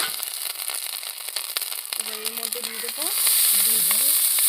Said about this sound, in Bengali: ভালো করে ভাজা ভাজা করে নিচ্ছি।